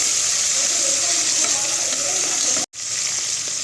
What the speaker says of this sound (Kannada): 2 ನಿಮಿಷ ಚೆನ್ನಾಗಿ ಅದನ್ನು ಫ್ರೈ ಆಗೋ ಥರ ಬಾಡ್ಸೋಣ